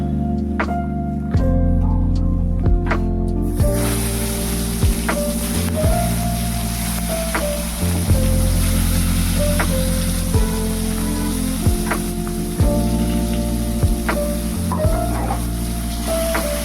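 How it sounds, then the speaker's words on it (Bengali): Green chillies and mustard seeds hit hot oil as a tempering for tomato dal, bursting into a loud, steady sizzle with scattered sharp pops and crackles over a low continuous hum. "এখন ফোড়ন দেবো, টমেটোর ডাল করছি তো ফোড়নে দেবো কাঁচা লঙ্কা আর সর্ষে।"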